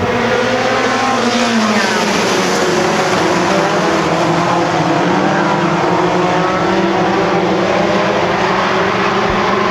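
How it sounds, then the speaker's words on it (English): Mod 4 race cars surge away at the green flag of a feature race at an oval raceway, a loud, dense roar of many engines rising in pitch and sustained throughout, with no talk. "The Mod 4 feature takes the green."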